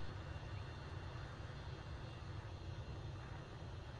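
Low, steady engine drone of a Beechcraft aircraft taxiing in a flight simulator, faint and constant with no change in pitch.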